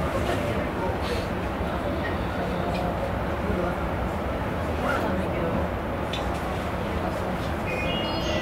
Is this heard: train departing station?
yes